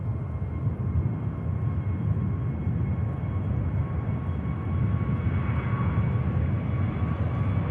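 Turkish Airlines A321neo departing Manchester Airport for Istanbul, a continuous low jet engine roar with a faint steady whine above it, swelling slightly near the end.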